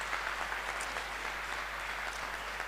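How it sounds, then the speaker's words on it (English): An audience at an International Day of the Boy Child event claps steadily, a soft, dense patter of many hands held at an even level throughout. "Round of applause."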